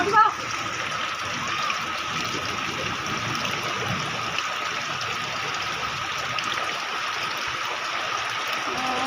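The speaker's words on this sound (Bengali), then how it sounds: "আর একটুখানি আসছে জল" Floodwater flows into a house in a continuous, even rushing wash with people talking over it.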